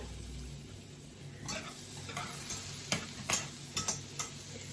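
Butter melts over low heat and is stirred in a pan to start a white sauce, giving a faint, soft sizzle with a few light ticking taps of the utensil, quiet and close.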